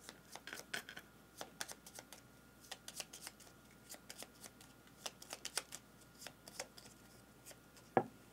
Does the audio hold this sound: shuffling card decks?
yes